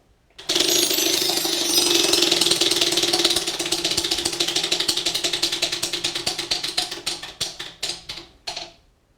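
Prize wheel spun during a school quiz game, giving a loud, rapid stream of clicks that gradually slows, spaces out and stops with a final few ticks.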